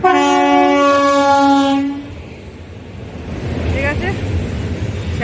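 Loud multi-tone train horn blares for about two seconds and cuts off, then a heavy rumbling goods train rolls past with faint clattering and screeching metal.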